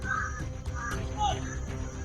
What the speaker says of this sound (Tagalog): Pinapalipad yung mga ibon. Sobrang dami talaga.